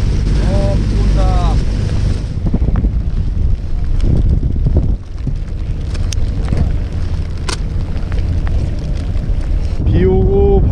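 Wind gusting and buffeting the microphone aboard a webfoot octopus fishing boat off Gunsan, South Korea, in the rain, a loud constant roar with engine and water rumble beneath and voices talking at the start and end.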